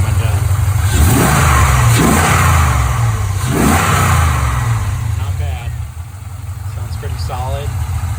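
A car engine revs up in several strong surges over a deep idle, loud and close, with a voice talking in between.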